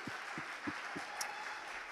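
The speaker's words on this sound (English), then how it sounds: "Can we give them a big round of applause?" A church congregation claps in a faint, sparse patter of a few hand claps at a steady pace, heard at a distance against a soft room hiss.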